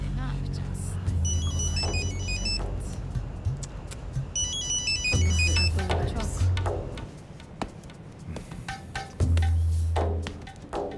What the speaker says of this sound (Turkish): Niye açmıyorsun telefonunu?